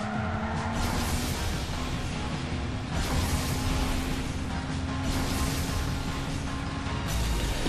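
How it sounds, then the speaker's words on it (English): Cars drift and skid through a Tokyo city course in the Asphalt Nitro racing game, with loud, continuous tire screeches and a racing engine drone, several swelling squeals overlapping with no voices. "Drift down this way too."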